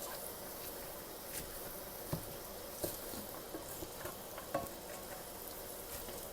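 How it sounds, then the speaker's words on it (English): Ground meat being broken up with a meat chopper in a frying pan, soft sizzling under scattered light scraping taps and clicks, quiet and close with no talking. "I'm just going in with this meat chopper every few minutes and basically just chopping the meat up more"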